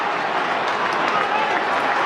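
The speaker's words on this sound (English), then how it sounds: "Crowd starting to find a bit of voice here too." Crowd at a Melbourne versus Fremantle AFL match, a steady broad roar of cheering and applause from a large stadium audience, continuous and moderately loud throughout.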